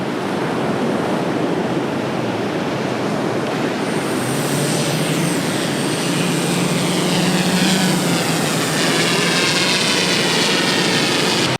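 Fishing drone with two bait release payloads flying out over the beach surf, a steady high-pitched rotor whine rising over constant crashing waves, loud and continuous throughout.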